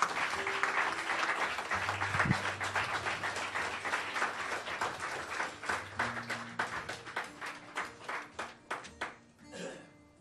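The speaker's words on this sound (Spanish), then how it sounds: "Dale un aplauso, Señor." Applause from a church congregation during a Spanish-language worship service, with dense clapping that gradually thins into scattered individual claps, while a sustained musical tone and some voices carry underneath.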